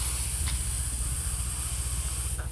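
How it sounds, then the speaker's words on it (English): Air let out slowly from a balloon makes a steady, loud hiss that runs the whole time without a break, with a faint low rumble beneath it and no talking. "I'm going to let the air out slowly so you can see how the balloon deforms as the air goes out"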